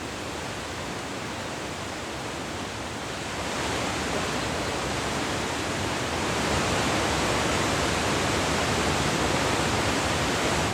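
Steady, dense roar of a 25.6-metre waterfall in Yellowstone, constant and full across the whole stretch, growing slightly louder partway through, with no voices.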